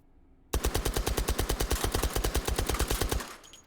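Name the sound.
suppressed H&K UMP 45 gunfire in video game H3VR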